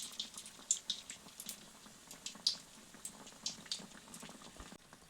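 Bread chop frying in hot oil gives a steady close sizzle scattered with sharp crackles and pops, with no talking.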